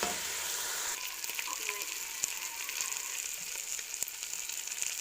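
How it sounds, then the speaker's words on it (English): Onion, garlic and ginger fry steadily in a pot for Kenyan pilau, giving a continuous close sizzle with occasional soft clicks and stirring noises and no talk. "we now wait for it to stick to the bottom of the pot"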